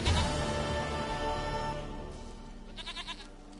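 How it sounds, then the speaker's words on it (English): Goat bleats in The Witcher 3: Wild Hunt, a short series of pulsing, wavering cries near the end, following a fading swell of game music and ambience, with no talk over it. "Goat of mine, dearest, sweetest goat."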